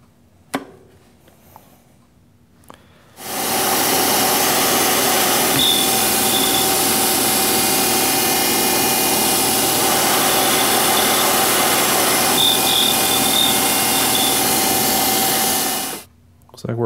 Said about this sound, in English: I've now tapped and I've got the boring bar back here